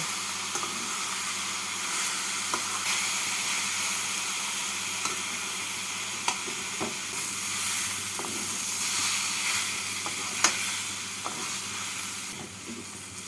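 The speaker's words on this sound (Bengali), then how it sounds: "এবার আরও দু তিন মিনিট মতো মূলটাকে নাড়াচাড়া করে নেব" Radish stir-fried in a pan for Bengali coconut radish ghonto, a steady soft sizzle with faint scraping stirs and occasional clicks of the spatula, moderately quiet and continuous with no talking.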